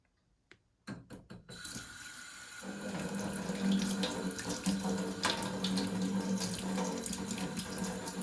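Water runs steadily from a kitchen tap while fresh ginger is rinsed before grating, starting after a few brief clicks and handling knocks, then a continuous close splashing stream that carries on with no one speaking.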